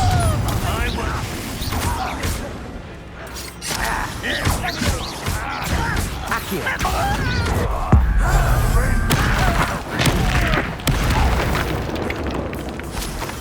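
Explosion spells from the Hogwarts Legacy video game burst in repeated booms and pops amid busy combat effects, with a player's voice speaking loudly over the action.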